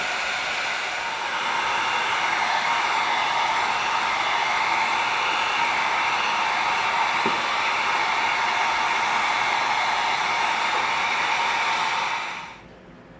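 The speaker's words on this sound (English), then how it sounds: "Now we're gonna bring in our heat gun and we're gonna seal it." A heat gun blows hot air over EVA foam to seal it, a loud, steady close whoosh that runs unbroken for about twelve seconds and then cuts off.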